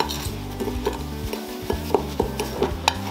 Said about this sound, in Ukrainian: Суміш ретельно перемішуємо